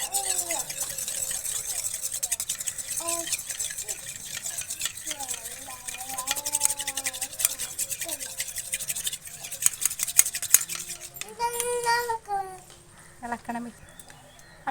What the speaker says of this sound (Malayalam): ഇത് നമുക്ക് നന്നായിട്ട് ഇത് മൂന്നും കൂടി ഒന്ന് മിക്സ് ചെയ്തെടുക്കാം